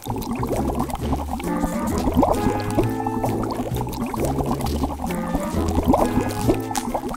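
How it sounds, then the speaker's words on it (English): In a cartoon, an alien sucks water out of a pool through a pipe, giving a continuous gurgling, slurping, bubbly liquid rush with squishy draining noises that keeps going steadily and loudly throughout, with no one speaking. "Oh no! The alien is sucking all the water with that pipe!"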